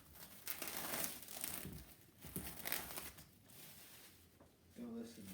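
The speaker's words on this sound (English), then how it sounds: "Get these unwrapped real quick." Packaged bacon sitting in liquid is torn open and unwrapped, giving close, irregular crinkling and tearing of plastic in quiet bursts, with a short soft tone near the end.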